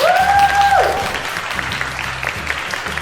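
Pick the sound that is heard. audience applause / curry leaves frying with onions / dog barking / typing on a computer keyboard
audience applause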